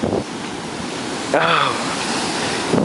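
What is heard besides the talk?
big ocean waves on a beach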